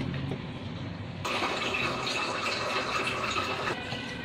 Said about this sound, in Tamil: கல்லுப்பு நான் அதில் போட்டு தண்ணி ஊற்றி கரைச்சி அதில் ஊற்ற